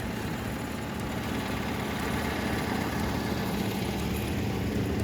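An engine idles steadily as it warms up, giving a continuous, even drone with no breaks and no voices.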